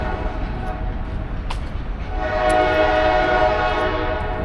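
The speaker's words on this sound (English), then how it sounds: "The train that just passed by, I missed it." A train passes nearby with a rumbling roar, its horn sounding as it goes by, steady and loud.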